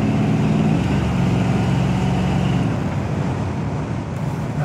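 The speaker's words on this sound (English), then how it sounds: "we're just going to take it for just a little cruise and see how it goes down the road" A 1970 Plymouth Barracuda with a 318 engine cruises down the road, its engine note humming steadily with a low rumble that eases slightly toward the end, no talk.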